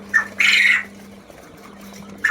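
A few high, shrill chirps from quail chicks, one short call near the start, a louder burst just after, and another at the very end.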